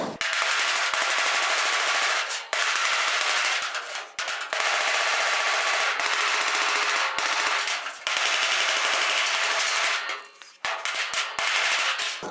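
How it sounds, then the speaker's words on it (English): Hammer tapping a dent out of the steel hood of a 1956 Chrysler 300 against a dolly held behind it, a dense run of sharp metallic taps going on nearly nonstop with a few brief pauses, close and loud. "I'll just tap it lightly, move the dolly, and then resume tapping."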